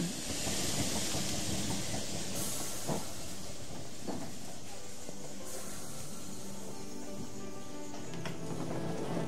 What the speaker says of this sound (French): La vieille et unique locomotive qui doit nous conduire sur les rives de l'océan Indien semble vouloir fonctionner.